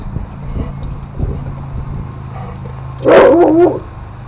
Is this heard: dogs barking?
yes